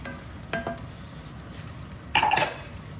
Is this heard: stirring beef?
yes